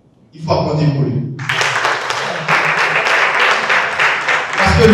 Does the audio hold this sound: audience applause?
yes